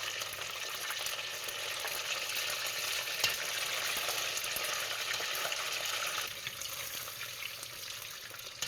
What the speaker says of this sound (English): When the frying starts to calm down a little bit and the chicken is tan or brown, you know it's ready to go.